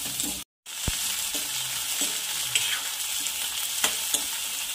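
Green peas and fenugreek leaves sizzle steadily in a hot pan for a methi-vatana vegetable dish, with a brief dropout near the start and occasional light stirring knocks, no talk.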